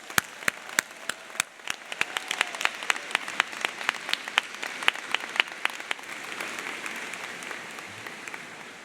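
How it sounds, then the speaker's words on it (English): A crowd at an undergraduate commencement ceremony for the class of 2026 applauds, with sharp individual claps standing out over a moderately loud, continuous spread of clapping. "How about we give them a huge round of applause?"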